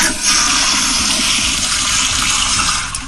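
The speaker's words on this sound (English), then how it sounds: "actual toilet sound effects from the power flusher recently installed in his home. 2 of them, so as you requested, a double flush" A power-flusher toilet installed in a home flushes with a loud, forceful rush of water that roars steadily for about three seconds before easing off slightly at the end.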